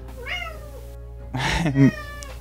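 A cat meows twice nearby, a short plaintive call followed by a louder, more insistent meow, with quiet background otherwise.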